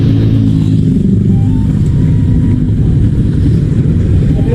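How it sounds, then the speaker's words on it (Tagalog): Heavy nighttime road traffic on a congested route from the north, heard from inside a moving vehicle as a steady, loud low engine and road rumble with no speech. "Sobrang traffic ng daan kasi nagsabay-sabay lahat ang mga iba't ibang sasakyan galing norte."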